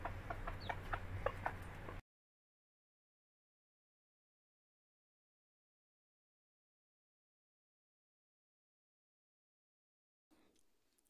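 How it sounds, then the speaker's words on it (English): Brief clucking from a hen with soft rustling, lasting a couple of seconds before silence, then a faint noise near the end. "H, H for hen."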